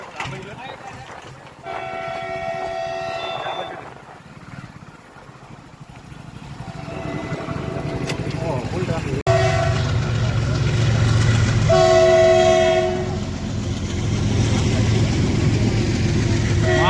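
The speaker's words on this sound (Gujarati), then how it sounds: "આ દેખાય ટ્રેન જ આવે છે જો પાવ હોય ગયો આવી ગઈ છે ટ્રેન" A train pulls into the station at Bhayavadar near a busy fair market, its horn sounding in several loud blasts over the rumbling wagons, with people talking nearby.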